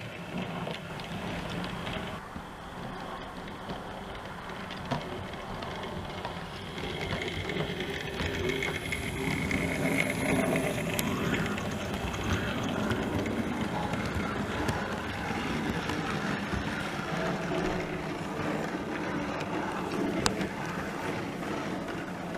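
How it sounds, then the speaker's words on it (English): A steady mechanical rumble with a faint whine runs throughout, a model train rolling continuously along its track, with a few light clicks. "it's going to take the rest of the train now down to Weybridge"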